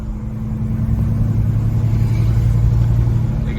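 A 1965 Oldsmobile Cutlass resto-mod cruising at about 50 mph, with a steady low engine drone and road rumble inside the cabin. It stays loud and even, with no talking.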